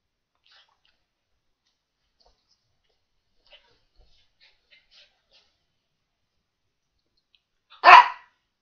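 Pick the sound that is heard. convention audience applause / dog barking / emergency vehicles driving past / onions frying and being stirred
dog barking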